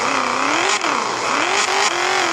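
A burnt, wrecked sports car engine fires up and revs loudly and continuously, its pitch rising and falling across several throttle blips, close to the microphone with no talk over it.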